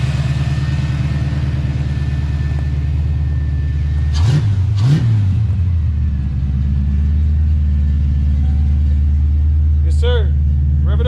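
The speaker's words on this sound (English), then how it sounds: "Rev it up." A 1988 Ford Mustang 5.0 V8 idling loudly up close with a deep rumble, blipped twice in quick succession into sharp revs, then settling back to idle; people talk nearby.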